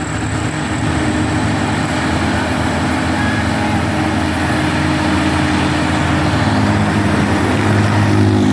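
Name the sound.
8x6 truck driving past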